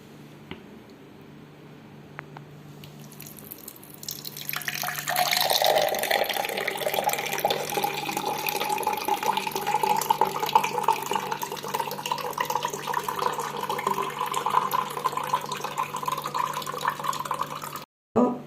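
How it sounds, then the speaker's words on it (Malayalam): After a quiet start, cucumber mint lime juice is strained steadily into a glass for several seconds, a continuous bright trickling splash that stops abruptly. "ഇതിനെ നമുക്ക് ഒരു ഗ്ലാസ്സിലോട്ട് അരിച്ചൊഴിക്കാം"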